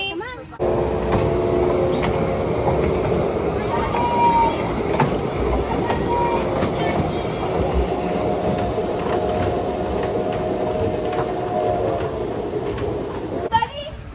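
A small amusement ride train at Disney Springs rolls past with steady mechanical rumble, faint clicking and squealing tones, while people talk and cheer nearby.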